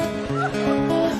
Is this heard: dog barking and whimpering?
yes